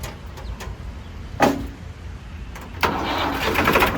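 A new 2024-model Swaraj tractor engine cranks and turns over, with a short burst midway and a rougher, sustained rumble catching near the end.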